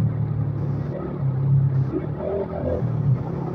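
A Honda CG125 motorcycle engine while riding, with a fault where fourth gear will not engage: a steady low rumbling drone, close and continuous, swelling slightly at moments.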